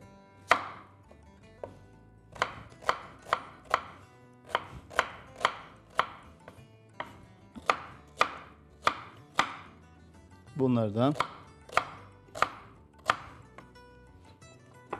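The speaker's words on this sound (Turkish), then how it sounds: "Ben şöyle bir küçük küçük küp küp doğrayacağım." Onions being diced into small cubes with a knife on a cutting board: sharp, regular chopping taps, about two dozen in a steady rhythm, close and clear, with a brief rougher scraping burst partway through and no talking over it.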